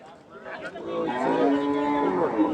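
Cattle at a Nilphamari livestock market for Eid sacrifice give one long, loud, close moo that swells and holds for a couple of seconds.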